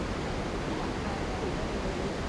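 A waterfall pours in a steady, dense rush of broadband noise, loud and continuous with no breaks.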